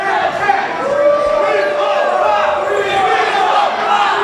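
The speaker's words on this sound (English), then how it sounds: "And you can hear right here, the hometown crowd showing their love." A hometown crowd at a live wrestling show roars and cheers in a continuous, loud wash of voices, with some shouting rising and falling but no break in the noise.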